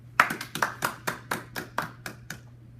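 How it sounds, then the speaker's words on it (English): A small group claps at the end of a studio biology news segment, roughly ten sharp claps that quickly thin out and fade, heard fairly softly over a steady low electrical hum. "Can we have a round of applause for Mr. Smith here?"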